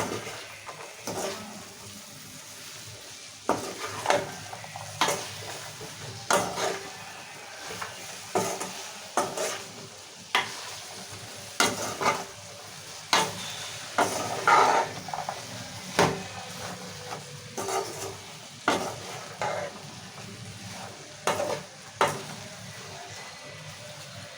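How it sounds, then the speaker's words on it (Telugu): Cut okra pieces stirred with tomatoes in a hot pan, giving a steady run of scraping stir strokes over a soft sizzle, close and moderately loud with no talking. "ఇప్పుడు కట్ చేసుకున్న బెండకాయ ముక్కలు వేసేసుకుందాము. సో మంచిగా కలుపుకోవాలి ఇప్పుడు."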